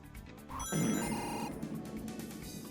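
A bright, chiming speed boost sound effect from Sonic Robo Blast 2 swells up and rings out in a shimmering burst, then sustains with a whooshing tonal tail.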